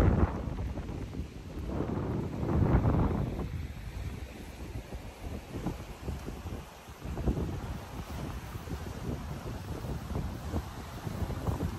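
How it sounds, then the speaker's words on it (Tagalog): Strong gusting wind buffets the microphone on the rocky coast of Yehliu Geopark in Taiwan, with surging waves rolling underneath in heavy, uneven swells and no voices. "maririnig ninyo ang lakas ng alon at ang lakas ng hangin"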